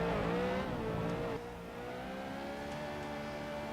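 A BMW M3 E92 drifting around the Magione circuit in Assetto Corsa, its engine note rising and falling under heavy throttle, with one sharp drop in revs partway through and a steady sliding whine afterward.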